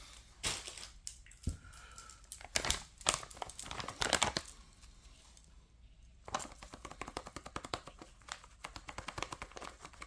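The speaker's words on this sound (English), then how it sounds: "Off camera here, cutting open the bag." A crinkly plastic bag of curry spice is cut open and handled nearby, giving sharp crackling and rustling bursts with a brief lull midway, and no voices.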